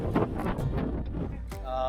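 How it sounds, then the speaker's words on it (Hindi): Strong wind gusting across an open rooftop terrace, a steady broadband rush close to the microphone with someone talking over it throughout. "and it's still pretty बहुत ज़्यादा हवा चल रहा है"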